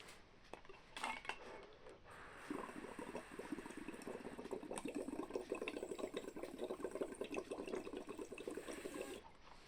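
A voice imitates someone blowing bubbles through a straw into a glass of liquid, a steady, close bubbling gurgle that builds after a brief start and continues alone to the end.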